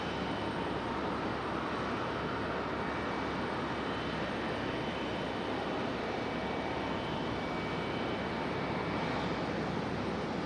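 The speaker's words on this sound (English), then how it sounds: "we got a 757 about ready for departure. Lining up behind that United right there." A Boeing 757 lines up for departure at Raleigh-Durham International Airport, its engines giving a continuous, dense roar that stays loud and even for about ten seconds with no voices.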